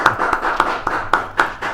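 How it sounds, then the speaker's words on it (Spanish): A brief burst of clapping greets a studio guest on a radio show, several sharp claps in quick succession, close and fairly loud, with no talking. "fortísimo aplauso."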